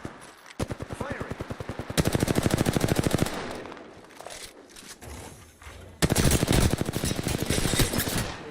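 Automatic weapon fire in Apex Legends arrives as loud, close bursts of rapid shots, with a long run near the start and another near the end, quieter gaps in between, and a voice talking through part of it.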